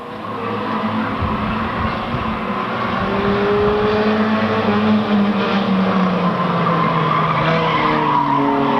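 A race car, the number 59 machine on its final lap at a 1998 speedway event, roars steadily and loudly past, its engine pitch sliding in long sweeps over a dense, continuous wash of track noise and crowd ambience.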